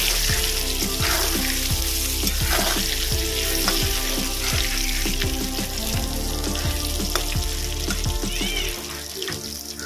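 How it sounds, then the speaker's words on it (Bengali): Potatoes frying in hot oil in a Bengali home kitchen for kochur lejera: a steady, close crackling sizzle runs throughout, punctuated by regular clinks and scrapes of stirring. "আলুগুলো ভেজে নেব।"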